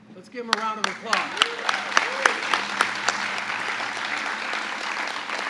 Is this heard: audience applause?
yes